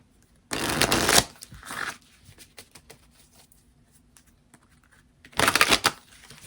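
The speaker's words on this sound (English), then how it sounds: "I'm going to pull some tarot cards first." Tarot cards being shuffled by hand in two brisk, close riffling bursts, one at the start and one near the end, with quiet rustling between.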